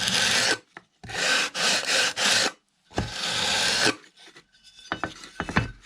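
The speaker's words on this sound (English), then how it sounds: "So I just go around with this sanding bar" Rough, rasping strokes of a sanding bar rubbing over the wood of a control line model plane, coming in several bursts with short pauses, close and fairly loud.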